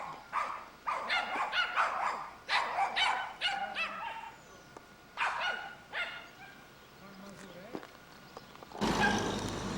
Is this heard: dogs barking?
yes